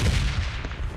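Gunfire in a shooter video game, a brief burst of booming shots within a short, loud, dense stretch of game audio.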